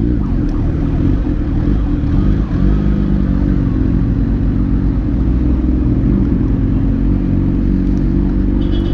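A 2020 Kawasaki ZH2 motorcycle rides through traffic, its steady engine rumble loud and continuous alongside surrounding vehicle noise, with no talking.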